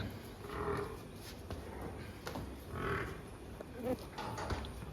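A water buffalo lows several times, low drawn-out moans at a moderate distance over soft background noise on a dairy farm.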